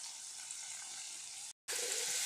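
Crème fraîche and lardons sizzle in a saucepan with a steady, dense hiss that carries on evenly, cut once by a brief silence before resuming just as strongly.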